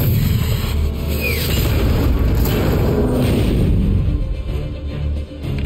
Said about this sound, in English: They brought the rocket launchers.